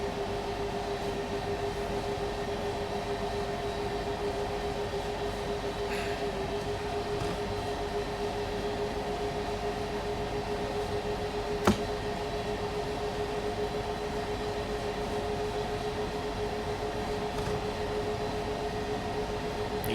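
In Train Sim World 4, a train pulled by two locomotives climbs a grade, making a steady, droning rumble with a constant tonal hum and one brief click partway through.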